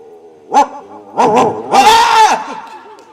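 A dog on a bed lets out a short sharp bark, then a couple of quick barks, then a longer drawn-out whining bark, all loud and close.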